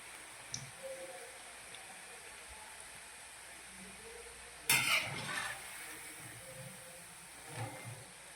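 Vanela gathiya fry gently in oil in a pan over a low flame, giving a faint, steady sizzle with soft stirring clinks and one brief louder burst of crackle midway.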